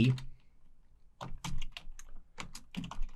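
Quick bursts of clicking keystrokes on a computer keyboard, close and clear, with a short pause early before a rapid run of typing.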